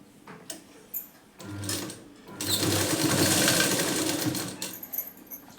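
Sewing machine stitching blouse fabric near a folded edge, a few short starts followed by a long, steady whirring run of rapid stitches, then brief taps as it stops.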